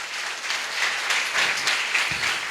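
Loud applause from a church congregation during a Wednesday worship meeting, a dense steady wash of many hands clapping for about two and a half seconds with no talk over it.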